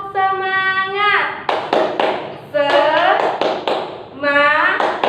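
Children doing a 'tepuk semangat' clapping chant, sharp rhythmic hand claps alternating with sung chant voices, close and loud, claps landing in short clustered bursts between the vocal lines.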